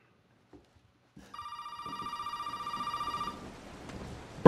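A telephone rings inside the Resident Evil 7 horror game, a steady electronic trill of repeated pulses lasting about two seconds, then it stops and a sharp loud knock or clatter follows near the end.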